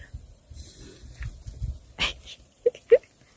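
A dog at a campsite whimpers, giving two brief, high, nasal whines near the end after soft sniffing and breathing sounds.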